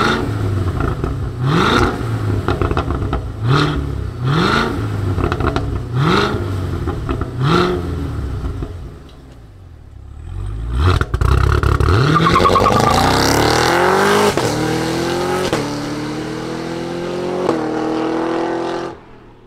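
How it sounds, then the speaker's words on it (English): A 2024 Cadillac CT5-V Blackwing engine starts and roars through a series of sharp revs, dips briefly, then surges into a long, loud climbing rev before settling, close by. "Let's start her up and hear the sound of this Blackwing."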